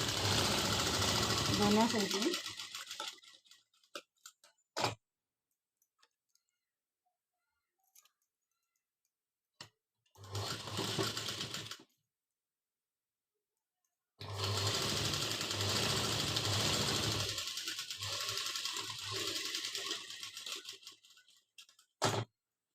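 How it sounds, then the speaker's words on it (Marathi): A sewing machine runs a topstitch along a blouse seam in three loud bursts of whirring stitching, the first and last several seconds long and a short one in between, with near-silent pauses and faint clicks separating them. "आता ही दाब शिलाई टाकून द्यायची त्याच्यावर ही शिलाई टाकून द्यायची"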